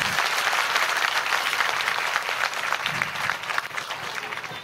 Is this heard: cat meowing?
no